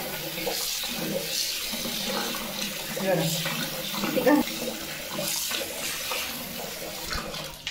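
Finger millet (nagli) grains are rinsed in a pot of water, making continuous close swishing and sloshing as hands stir the grain, with a few louder splashes along the way.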